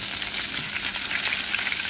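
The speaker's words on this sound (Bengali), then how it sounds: "তো ওইদিকে মাছটা ভাজা ভাজা হতে থাক" Rohu fish tails fry in a hot pan of oil, giving a steady, close, dense sizzle with crackling spits throughout and no voices.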